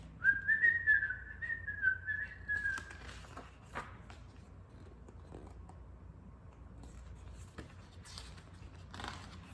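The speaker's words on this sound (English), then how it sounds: "He whistled all the way there and whistled all the way home." A person whistles a clear, wavering tune for a few seconds, fairly near and alone, before it breaks off into a quiet room with faint scattered taps and clicks.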